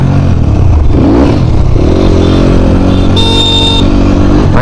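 Dirt bikes (HJ250, XZ250 and Hyper X250) ride off together, engines droning loud and close with rising revs and a brief horn-like tone partway through.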